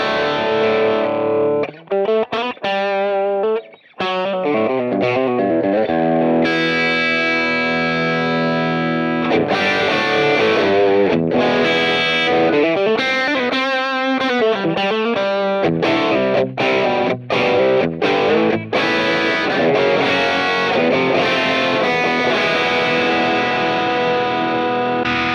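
Electric guitar on its bridge pickup through a ToneX capture, distorted with chorus shimmer, playing loud sustained chords and ringing arpeggios alone for about twenty-five seconds with brief gaps near the start.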